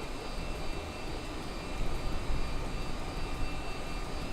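An airliner's jet engines roar in a flight simulator game on a Heathrow to Amsterdam flight, a steady broad rumble and whine that swells slightly midway, with no talk.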